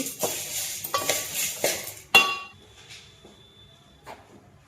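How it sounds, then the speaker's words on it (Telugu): Toor dal being dry-roasted in a pan, with scraping and clinking of a ladle against the metal in several sharp bursts and softer stirring in between, close by and with no talk. "కందిపప్పు వేపుకుందాం ఇప్పుడు"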